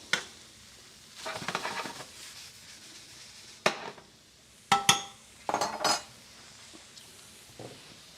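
Ground meat frying in a pan for spaghetti sauce, with a sizzle under repeated utensil scrapes, stirring and sharp clinks of metal against the pan, heard close with quiet gaps between bursts.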